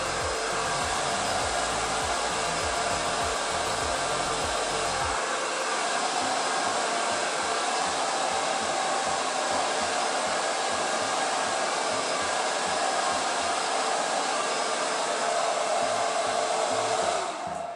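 A hair dryer blows loudly and continuously while styling fine hair, a steady broadband whoosh with a brief change in airflow early on, no talking.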